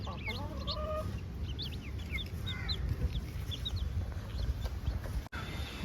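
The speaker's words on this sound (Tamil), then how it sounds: "3 வாட்டியுமே கோழி கொஞ்சம் நல்லாவே காப்பாற்றிருக்கு இந்த கோழி." Mother hen on a poultry farm clucking steadily among her newborn chicks, whose high peeping chirps sound repeatedly throughout over a constant farmyard rumble.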